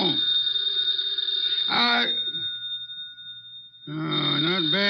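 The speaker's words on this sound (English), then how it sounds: "The phone." An old bell telephone rings loudly indoors in two long trilling bursts separated by a pause, with a voice overlapping the ring.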